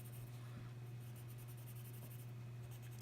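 Soft, steady scratching of a soft-lead coloured pencil shading across paper, continuous and faint over a low electrical hum, ending with a small click.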